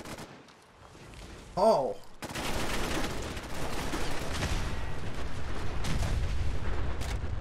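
Rifle gunfire in the video game Fallout 4 against sentry bots, a sharp burst followed by continuous rumbling firefight noise, with a brief startled exclamation from a player early on.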